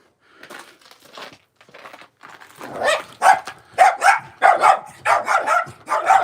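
Dogs bark near a woodshed, starting with scattered softer yips and building into a rapid run of loud, close barks in quick succession.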